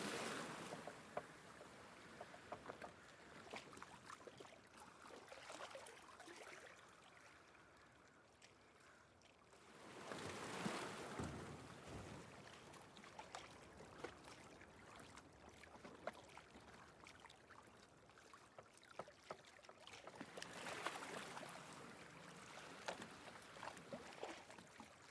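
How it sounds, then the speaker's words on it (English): Boat moving across open water in The Last of Us Part II, with continuous splashing and lapping waves that swell louder in bursts, no voices over it. "It's a boat."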